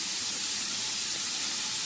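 Crushed garlic and diced onion sizzling in oil in a pan, giving a steady, close, bright hiss that stays even throughout with no talking.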